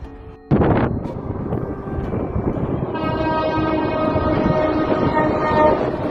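A Vande Bharat Express train running on the Katra–Banihal rail track during a speed trial rumbles steadily and loudly, with a sharp burst near the start and then a sustained rolling roar and wind noise, no voices.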